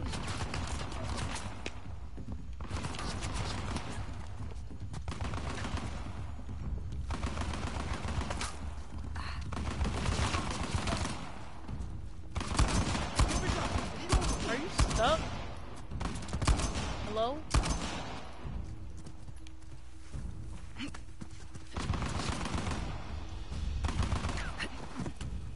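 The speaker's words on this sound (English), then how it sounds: "Who was shooting?" Continuous gunfire in the action video game Uncharted: The Lost Legacy, with dense, overlapping bursts of shots and rattling fire running throughout. A voice speaks over the shooting at times.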